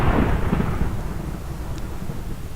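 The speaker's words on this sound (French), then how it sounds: "Si vous entendez l'éclair derrière, c'est dans le jeu." A thunder rumble in a Minecraft server game, loud at the start and then a fading roll with no voices.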